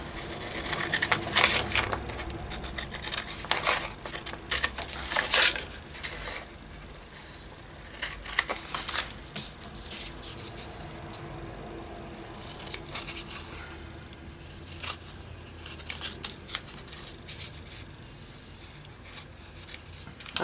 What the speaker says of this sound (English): we'll just cut around that.